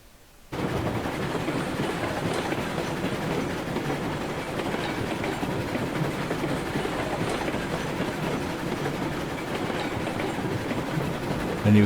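Steam train running along track in Railroads Online, a steady, loud chugging and rolling rumble with rhythmic clatter that carries on without pause after a brief quiet start.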